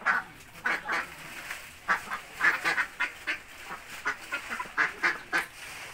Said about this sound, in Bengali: খালের পাশে অনেকগুলো হাঁস ঘুরে বেড়াচ্ছে।